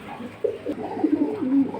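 Large pigeons, high-flying Bengali breeds, coo in a cage with low throaty warbling calls that start softly and grow louder and more continuous, close by, under a steady hiss of rain.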